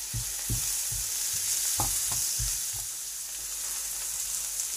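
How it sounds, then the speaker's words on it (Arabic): Food fries lightly in a pan, a soft steady sizzle broken by several low knocks and scrapes of stirring in the first half that then fade out. "بحمسة خفيفة راح أضيف له سمار"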